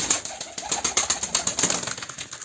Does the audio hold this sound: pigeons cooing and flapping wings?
yes